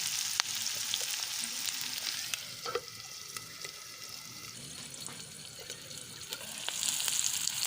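Onion for a cashew curry cooks in a pan until light pink, with a steady moderate sizzle, occasional stirring clinks and scrapes, and no speech.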